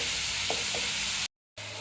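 A tomato and green chili paste sizzling in a pan for a dhaba-style egg curry: a loud, even frying hiss with a couple of soft stirring clicks, then a brief total cutout before it resumes.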